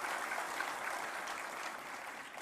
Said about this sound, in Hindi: एक बार तालियां बजा करके हम सब लोग उनका स्वागत करें